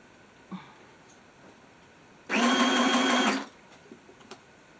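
A sewing machine runs in one short burst of about a second while sewing a fabric ruffle, a fast close whirring rattle framed by quiet handling clicks before and after.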